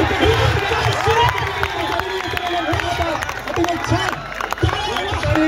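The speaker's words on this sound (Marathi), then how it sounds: "काय जबरदस्त टाळ्या आहे" A crowd at a final kabaddi match claps and cheers in a dense, continuous wash of noise that carries on for the whole stretch, with a commentator talking loudly over it.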